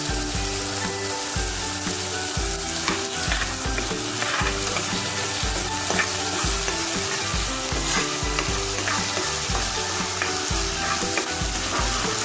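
Ginger, garlic and chili paste sautés in a pan with a loud, constant crackling sizzle, while a spoon stirs it in regular scraping strokes close to the pan.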